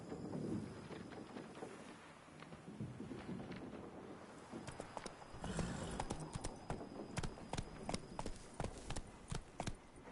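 Roach, a horse in The Witcher 3 on PS4, gallops with steady hoof clip-clop beats that grow louder and sharper partway through, over a constant wind-like background.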